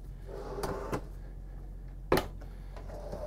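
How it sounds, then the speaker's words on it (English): A rollout kitchen drawer in a 2023 Newmar Essex 4595 motorhome gives a few sharp clicks and knocks as it slides and latches, with the loudest thud near the end in a quiet interior. "We've got another rollout drawer here."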